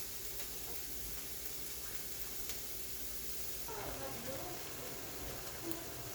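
Ground turkey cooked with onion, garlic and ginger fries in a pan for Asian lettuce wraps, a faint, steady sizzle with light crackle that continues evenly, quiet and close, with a voice briefly heard over it.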